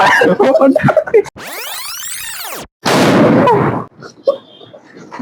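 A sharp whistling rocket-like sweep rises and falls, then a loud crackling burst of a Diwali firecracker, with voices talking before and after.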